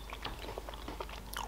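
A tartlet sweet gets bitten and chewed up close, a short run of soft crunchy bites and mouth sounds at low volume.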